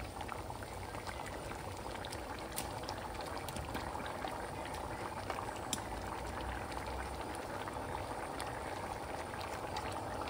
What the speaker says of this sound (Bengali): এই যে এখন ফুটে উঠেছে